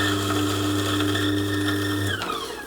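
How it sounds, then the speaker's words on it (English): A coffee grinder grinds cleaning tablets, giving a steady loud mechanical whir with a high whine that cuts off near the end and winds down, no talk. "Going to put in about a capful of tablets initially and grind that through."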